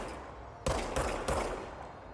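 Three loud gunshots in the video game Control, evenly spaced about a third of a second apart over a steady low background hum.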